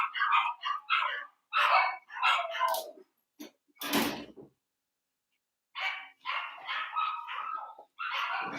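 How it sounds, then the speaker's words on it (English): Several dogs bark in loud bursts at close range, in ragged clusters with short pauses and one broad burst midway, with no talk. "Our dogs seem to go crazy at a certain time for no reason."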